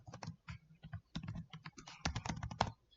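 Irregular bursts of clicking keystrokes on a computer keyboard as a short command is typed into a text editor on Ubuntu Linux, close and fairly quiet, with no talking.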